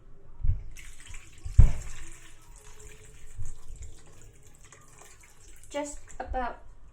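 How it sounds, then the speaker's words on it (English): Water runs from a tap into a cooking pot holding Filipino longanisa sausages, with a splash at the start and a trickling stream that fades in and out. Small clinks and handling noises come between the pours. "I'm going to put some water in."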